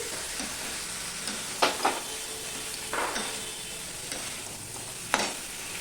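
Fried crabs stirred through a hot pan, a steady sizzle broken by a few louder scraping stirs of the spoon against the metal, close and alone with no talk.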